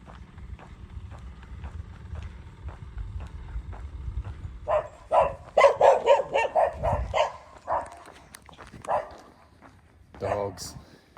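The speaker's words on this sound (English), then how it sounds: "Dogs." Several dogs barking from behind fences along a quiet rural track, a cluster of sharp, fairly near barks breaking out midway after quieter footsteps and ambient noise, with a voice speaking briefly.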